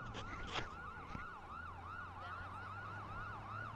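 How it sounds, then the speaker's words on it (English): A continuous wailing ambulance siren from a police roleplay video game cycles in a rapid, regular up-and-down pattern over a low engine drone, heard alone at moderate volume. "I am behind the ambulance"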